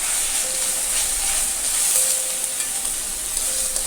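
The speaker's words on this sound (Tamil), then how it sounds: "இந்த மாதிரி கொஞ்சம் உடச்சி விட்டுக்கலாம்." Drumstick tree leaves sizzle and fry in a pan while being stirred and broken apart, giving a steady close hiss with faint scraping throughout.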